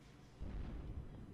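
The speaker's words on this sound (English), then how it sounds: "What are those giant explosions?" Distant giant explosions in the Half-Life 2 video game, a low rumbling boom that swells in after a quiet start and rolls on as a deep, sustained roar.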